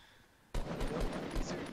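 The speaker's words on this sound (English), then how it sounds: "He just shot at somebody that you couldn't even see" Gunshots in Fortnite Battle Royale starting abruptly after a quiet moment, a quick run of loud rapid shots fired in succession.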